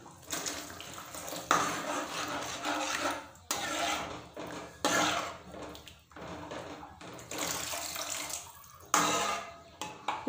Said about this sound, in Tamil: இப்போ கொஞ்சம் தண்ணி சேர்த்திக்கலாம்.